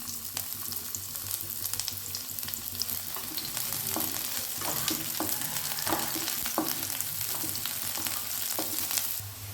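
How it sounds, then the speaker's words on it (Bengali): Finely chopped onion fries in hot mustard oil in a wok, a loud, continuous sizzle with steady crackling and occasional stirring close by. "তেলটা গরম হয়ে গেলে এতে দিয়ে দিচ্ছি একটা ছোট সাইজের পেঁয়াজ কুচি।"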